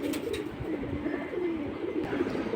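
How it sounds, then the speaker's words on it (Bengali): Pigeons at a busy pigeon market, with soft overlapping cooing and murmuring from many birds close by, set in a steady hum of crowd and market noise. "চিকন স্টার বাঘা কবুতর"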